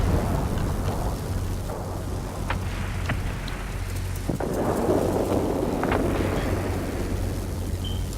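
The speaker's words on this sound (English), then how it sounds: "There's a heavy storm here." A heavy thunderstorm in the aerial combat game World of Warplanes, with steady rain hiss, low rumbling thunder and a constant engine drone underneath, all fairly loud and continuous.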